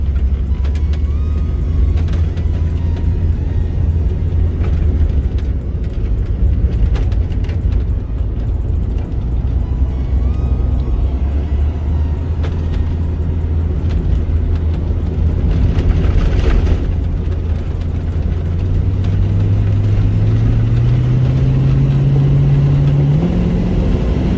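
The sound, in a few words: 1969 Pontiac Firebird accelerating and driving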